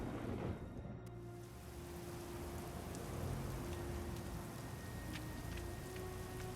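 Steady rain falls over a New York scene during a video game cutscene, a continuous soft hiss of drops on surfaces with a faint low hum underneath, even and fairly quiet throughout.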